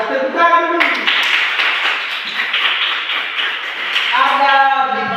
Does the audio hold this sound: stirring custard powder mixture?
no